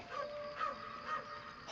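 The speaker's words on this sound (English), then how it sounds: "What you barking at, Scratch?" Scratch, the dog in the Baldur's Gate 3 video game, gives a few soft, muffled barks and yips, faint and spaced out over a low background hum.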